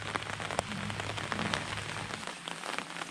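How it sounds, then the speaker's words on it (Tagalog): Rain falling in a rural countryside setting, a steady patter of drops on surfaces with scattered sharper close hits over a low background hum, no voices. "Ayun o, mga ulan."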